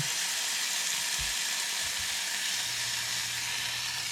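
Snipe fillets frying in a cast iron skillet give a steady, broad sizzle that fills the whole span, with a few low knocks from handling the pan and no voices.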